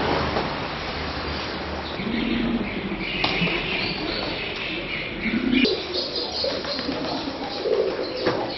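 White pigeons cooing at a small Shiva temple in Kaziranga, soft repeated coos and chirps over a steady outdoor background hum, moderately close.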